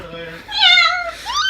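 A cat gives a clear, close, drawn-out meow that rises and falls, followed by a shorter upward chirp, just after a brief voice at the start.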